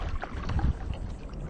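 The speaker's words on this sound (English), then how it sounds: "Nice day to go kayaking." A single kayak paddle stroke swishes and splashes close by on tidal water, brief and soft, with faint wind noise around it.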